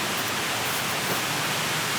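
Rain falling steadily inside a leaky abandoned university building at night, a dense continuous hiss of water with no voices.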